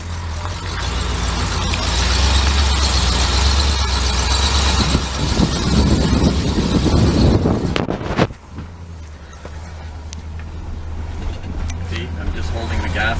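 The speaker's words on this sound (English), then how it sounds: "See, I'm just holding the gas and it's hesitating." A 1975 Oldsmobile Vista Cruiser with 270,000 miles, held on the gas, roars steadily with a rough, uneven engine note and a squealing edge for about eight seconds, then drops off sharply to a quieter idle.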